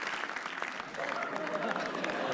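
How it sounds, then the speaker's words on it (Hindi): An audience at a comedy roast show claps in a fairly faint, continuous patter, with voices and crowd murmur mixed in. "प्लीज तालियां"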